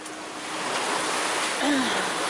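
Broadband rushing of ocean waves at sea on a sailboat entering the Gulf Stream, where the waves have become steeper; a steady wash of water noise fills the passage, swelling slightly near the end.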